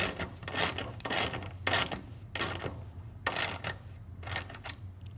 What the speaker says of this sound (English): Now put that 8mm back in here and tighten it down.